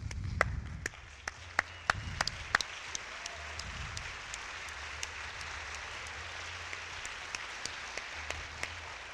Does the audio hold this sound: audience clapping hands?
yes